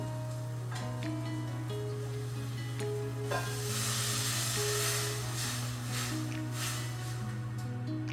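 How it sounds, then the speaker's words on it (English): A pan sizzles and hisses steadily as wine and stock hit it during deglazing for a spicy Cajun pork tenderloin pan sauce, with bursts of steam and stirring, over a constant low hum and faint background music. "So there, I'm just deglazing my pan."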